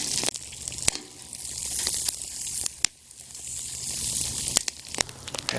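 Brown and serve sausages sizzle in a pan over a campfire, a steady close hiss and crackle with sharp pops and spits scattered throughout, alone without talk.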